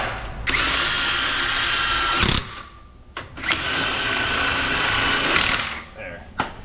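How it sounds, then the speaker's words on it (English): A power tool runs on lug nuts while a wheel is refitted after a flat tire repair, giving two sustained loud whirring bursts of about two seconds each separated by a short pause, with a brief tail of a third. "So I'm gonna put a couple lug nuts back on."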